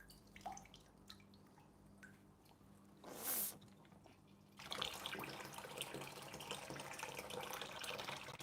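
Water splashes and runs steadily during an aquarium water change, close by, after a few quiet drips and a short gush, then a continuous pour that holds to the end.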